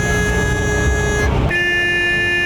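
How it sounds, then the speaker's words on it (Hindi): Car horns honk in Karachi street traffic, with long sustained tones and one pitch shifting to another midway, loud over the constant rumble of engines. "हॉर्न की आवाज़ें, गाड़ियों के इंजन का शोर"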